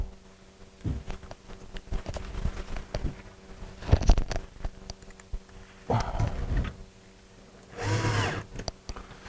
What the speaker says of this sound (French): On va la visser maintenant.